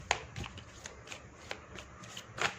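Tarot cards are shuffled by hand in repeated short riffles and slides, crisp papery flicks coming close and clear at an irregular rhythm with brief pauses between bursts.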